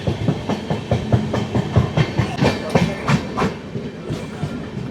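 The Ratnachal SF express rolls through a curve, with close, steady clickety-clack wheel beats repeating in a quick rhythm over a rumbling carriage.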